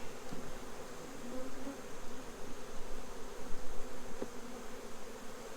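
Honey bees buzz steadily around opened hive frames during late-September fall preparation, a dense continuous drone filling the air close by, with a few faint knocks of frames being handled.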